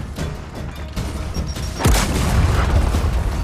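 A grenade blast in Gears of War 4 campaign combat, a heavy booming explosion near the middle followed by a long rumbling tail, with scattered gunfire and thuds before it.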